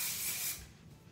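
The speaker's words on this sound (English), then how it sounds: "So then I spray this through the ends of my hair." Texture spray hisses in a close, steady burst onto the ends of the hair for about half a second, then cuts off and leaves a quiet room.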